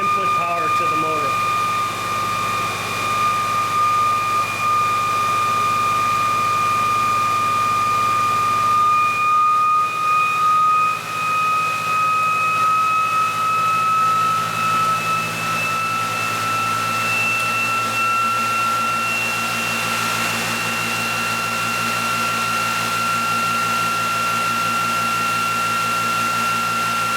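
The ReGen-X Quantum Motor runs with a steady electric hum and whine, its tone rising gradually as it speeds up, heard close and continuous.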